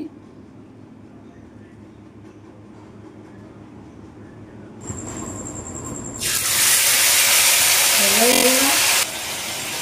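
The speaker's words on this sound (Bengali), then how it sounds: "আমার তেল গরম হয়ে গেছে, আমি ছেড়ে দিচ্ছি" Batter-coated fish goes into very hot oil, and a loud, sudden burst of sizzling erupts partway through after a quieter stretch of kitchen background, then continues strongly before easing slightly.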